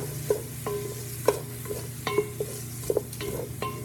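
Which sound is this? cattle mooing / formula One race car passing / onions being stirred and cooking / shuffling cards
onions being stirred and cooking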